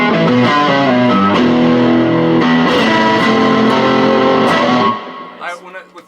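Electric guitar played through a fuzz pedal: loud, thick distorted chords and sustained notes ringing together, then cutting off near the end and leaving a few quieter, scattered tones.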